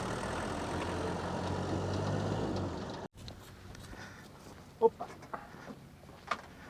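A tractor engine idles during a grape harvest on a Portugal farm, a steady low rumble that cuts off abruptly partway through, leaving quieter ambient sounds and a few short knocks.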